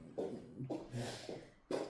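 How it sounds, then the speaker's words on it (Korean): Several short coughs from a person at a library reading discussion, in Mokpo, repeated in a quick irregular series, faint and close. "아 갑자기 기침이 나왔고"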